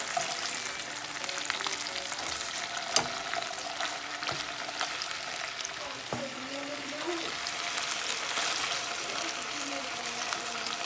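Seasoned chicken pieces sizzle steadily in a hot pan after being turned, a dense, even crackle with a few sharper pops and faint scraping throughout.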